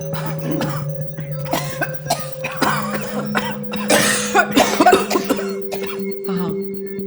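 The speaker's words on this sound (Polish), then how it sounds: "rejestruję wszelkie kaszlnięcia i pochrząkiwania" Repeated coughs and throat clearing come in short, close bursts over a steady background hum, with some voice sounds mixed in.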